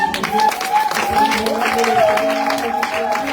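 A congregation applauds during a Sunday church worship service, with steady, dense clapping and crowd noise that runs throughout alongside sustained musical tones and voices.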